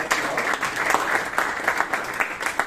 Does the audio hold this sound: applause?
yes